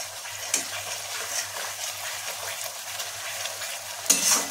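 Spice paste for parshe fish being stir-fried on low heat, a soft continuous sizzle with intermittent scraping stirs and a louder clatter near the end, no talking.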